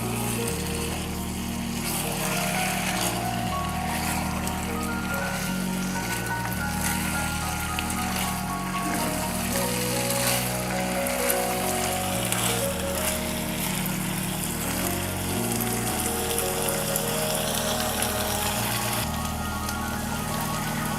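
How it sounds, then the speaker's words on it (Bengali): Meat and bean seeds sauté on high heat in a pan, giving a continuous close sizzle and crackle that sounds like rain, with a faint tonal hum in the background. "সিমের বিচিটা দিয়ে আমি আরও 3 থেকে 4 মিনিটের মতো হাই হিটে কষিয়ে নেব।"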